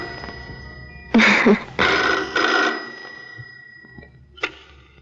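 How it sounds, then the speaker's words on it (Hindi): An old-fashioned telephone bell rings loudly in three short bursts, followed by a faint click in an otherwise quiet room. "देखो ना कौन है फोन पर।"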